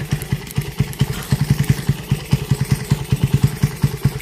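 A Rusi Raider 150 motorcycle with a 30mm open carburetor runs at a steady idle, its loud, close exhaust thumping in a quick, even rhythm of repeated pulses.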